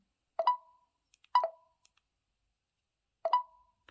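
Honor Magic 5 Lite screen lock sound on unlock: three short, crisp clicks spaced irregularly, close and clean against silence.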